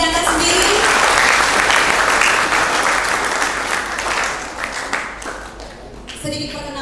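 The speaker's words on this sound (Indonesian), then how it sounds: "Oke, tepuk tangan untuk diri Anda sendiri." An audience claps steadily at a hypnosis and communication seminar, loud, dense applause that holds for several seconds before thinning and fading toward the end.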